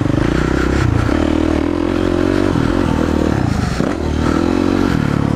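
A BKX 450 motocross bike rides at a practice session, its engine roaring loud and continuous throughout with steady revving and rough mechanical clatter, recorded close with no talking.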